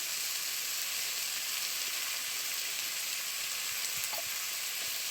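Grated potato stirred in a frying pan with turmeric and salt, a dense continuous close sizzle throughout with faint stirring scrapes, no talk.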